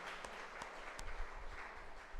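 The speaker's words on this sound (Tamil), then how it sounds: "கைத்தட்டி ஆண்டவருக்கு மகிமைப்படுத்துவோம்." A church congregation claps to glorify the Lord during a Catholic priest's prayer service, a faint, diffuse patter of many hands with no voices over it.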